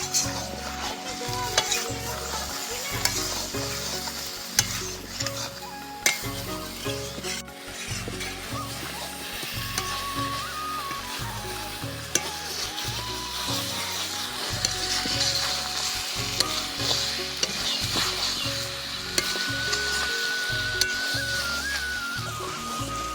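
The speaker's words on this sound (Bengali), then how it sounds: "এবার আলুটা দিয়ে দিচ্ছি, এবার আবার খানিকক্ষণ কষাবো।" Chicken pieces and potatoes sautéing in a pan of spiced gravy, stirred continuously with steady scraping and sizzling throughout, with no talk.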